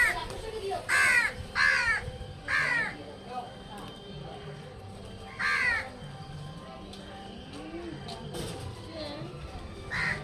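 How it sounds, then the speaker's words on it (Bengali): Crows cawing as they gather to eat rice put out alongside pigeons, loud harsh caws in bursts at the start and again midway, close, with quieter sounds between. "কাক পায়রা সবাই এসছে খেতে দিচ্ছে"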